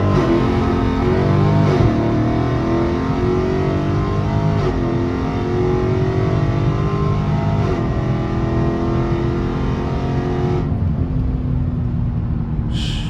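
A Dodge Scat Pack with the 392 engine pulls hard from a 30 mph roll, its loud engine roar climbing steadily in pitch through several quick upshifts before easing off near the end.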